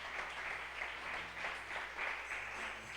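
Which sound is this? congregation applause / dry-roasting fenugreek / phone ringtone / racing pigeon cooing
congregation applause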